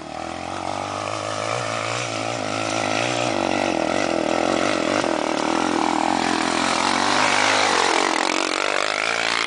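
A motorcycle engine runs steadily and loudly up close on a dirt trail, held in second gear, its pitch shifting as it works, with a continuous droning tone throughout.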